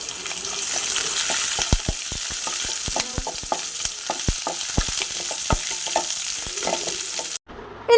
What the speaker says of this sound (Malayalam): പിന്നെ നമുക്ക് അരിഞ്ഞു വെച്ചിരിക്കുന്ന പച്ചമുളകും വെളുത്തുള്ളിയും ഇഞ്ചിയും കടുക് താളിച്ചയിലേക്ക്